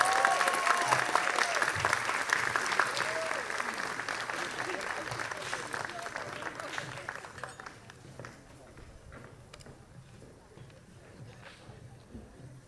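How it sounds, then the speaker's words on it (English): A crowd at a 2022 Oaxacan community celebration and scholarship event gives a loud, sustained round of applause that gradually thins and fades after about seven seconds, with voices talking over it. "Let's give Silveria and Eric another round of applause."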